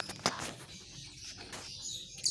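A baby bird being trained to turn chirps in short bursts and flaps its wings close by, with sharp broadband flutters near the start and end and quieter rustling in between.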